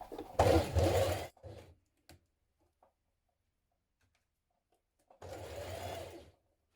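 A sewing machine stay-stitches around the neck edge of a 1970s vintage wrap dress in two short, close bursts separated by a quiet gap with a few faint ticks.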